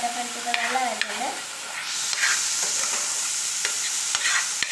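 Food sautéing in a pan with a continuous close sizzle and scattered scraping ticks of stirring, following a brief voiced sound at the start.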